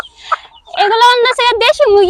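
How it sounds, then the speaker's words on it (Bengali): Native farm chickens cluck and call in a quick burst of loud, close, nasal notes, preceded by a brief quiet stretch with faint sounds. "এখন এখানে যে এই যে মুরগিগুলো দেখা যাচ্ছে এগুলো কি দেশি মুরগি"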